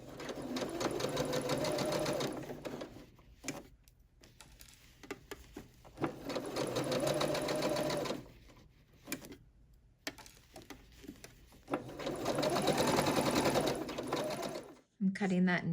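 A sewing machine runs in long steady bursts as blazer seams are stitched, its fast even whirring stopping briefly between passes, with a voice talking over it.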